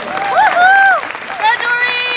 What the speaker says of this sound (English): So we're going to give Doreen another large round of applause